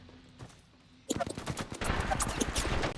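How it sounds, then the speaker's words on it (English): After a quiet second, rapid bursts of video game gunfire erupt, dense overlapping shots continuing loudly to the end. "you do get a really nice separated sound for different sets of gunfire"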